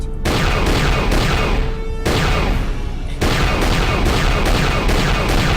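Ship turret gunfire in KotOR II: The Sith Lords pounds out as a series of heavy, loud blasts in rapid succession, each burst breaking off sharply before the next volley starts.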